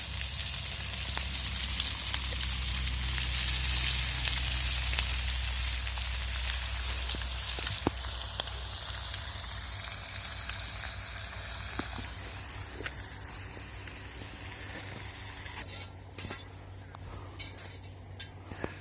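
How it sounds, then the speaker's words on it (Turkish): Fish frying in a pan over an open wood fire outdoors, a steady loud sizzle with occasional crackles and pops that persists alone throughout, slightly rougher near the end. "bir taraftan balığımız pişerken"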